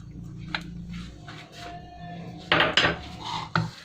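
Corn chaat ingredients, including tomato and cucumber, being added to a bowl, with faint clinks and scrapes of a utensil against the dish and a few sharper knocks near the end, quiet and close.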